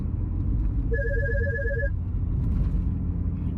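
A phone rings with a rapid electronic trill lasting about a second, heard inside a moving car over a steady low road rumble.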